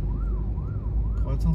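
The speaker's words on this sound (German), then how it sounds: "da fährt erstmal ein Krankenwagen vorbei" An ambulance siren wails steadily in a rising and falling pattern over constant city rush-hour traffic noise at a busy intersection in Ho Chi Minh City, Vietnam, fairly close and loud throughout.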